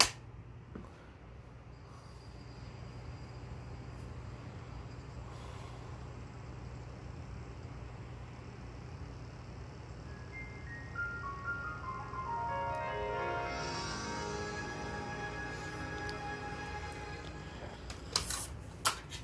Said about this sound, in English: let's go ahead and show you the Warner Home Video logo